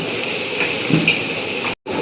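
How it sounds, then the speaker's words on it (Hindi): Onions sizzle steadily in a hot pan for a rustic mutton masala, giving a loud, continuous frying hiss that cuts out for a moment near the end. "तो ये प्याज हो गया फ्राई"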